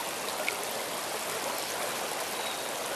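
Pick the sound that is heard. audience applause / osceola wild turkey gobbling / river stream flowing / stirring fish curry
river stream flowing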